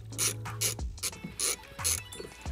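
Ratchet with a 7mm socket loosening a ground lug bolt on a GM vehicle, heard as several short bursts of close, crisp clicking, with pauses and light handling noise between strokes.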